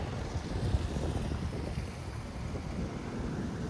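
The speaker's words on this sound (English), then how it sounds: "Beautiful little waterfall here." Steady rushing water from a small waterfall, a continuous broad hiss with some wind buffeting the microphone, no voices.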